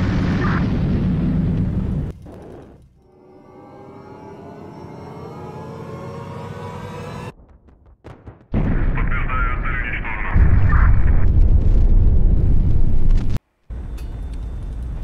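Missile strikes in HighFleet land as heavy, booming explosions, loud blasts separated by sudden silences and a long ringing, tonal decay, with a second powerful rumbling burst later that cuts off abruptly before another impact.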